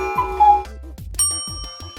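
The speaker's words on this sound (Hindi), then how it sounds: "यह आवाज तो घंटी की है।" A bright bell rings twice in quick succession, its clear tone hanging briefly over a low background rumble.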